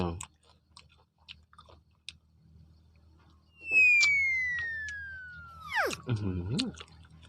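Someone chews mouthfuls of spicy mixed papaya salad up close with soft, wet, intermittent munching. A loud descending whistle-like tone sweeps through the middle, and the chewing picks up again after it.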